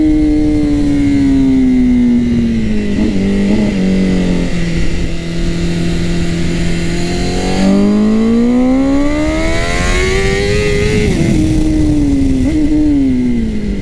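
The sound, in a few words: Honda CBR 1000 RR-R SP motorcycle riding and accelerating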